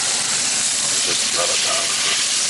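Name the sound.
beef sizzling while cooking for spaghetti bolognese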